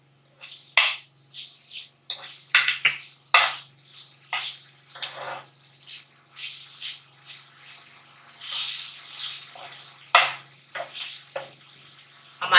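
Onion and chili going into a hot pan and softening, giving crackling sizzles in irregular bursts, with scattered sharp spits over steady frying close by.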